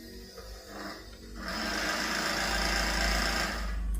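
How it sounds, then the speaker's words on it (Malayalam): A sewing machine stitches a nightie frock, starting with short, hesitant runs and then settling into a loud, continuous whirring hum that lasts to the end. "ആ തുണിയോട് കൂടി ചേർത്ത് ഞാൻ മൊത്തം നീളം വലിച്ചു പിടിച്ച് തയ്ച്ചു."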